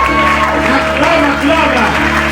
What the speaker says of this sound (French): C'est une acclamation prophétique.